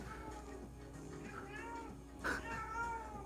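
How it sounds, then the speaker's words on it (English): A house cat meows indoors several times, drawn-out plaintive cries of moderate loudness with one louder yowl partway through, heard over a low room hum. "Is my cat meowing?"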